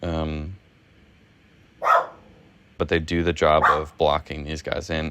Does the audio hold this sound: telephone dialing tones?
no